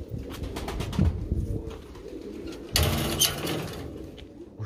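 Tumbler pigeons coo and rustle close by in a loft, with a burst of wing flapping partway through and steady low background noise throughout.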